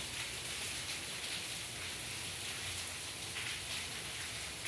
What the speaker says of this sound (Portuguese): Olha o barulhinho da chuva, gente.